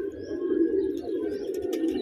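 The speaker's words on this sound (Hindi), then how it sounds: "तो व्यूअर्स देखिए ये कबूतर" Pigeons coo in a steady, low rolling murmur close by, with a few faint chirps and rustles above it, no voices.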